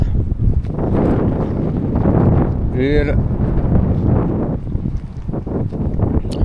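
Strong wind in Turkey buffets the microphone in loud continuous gusts, with someone talking over it and a brief whistling tone in the middle.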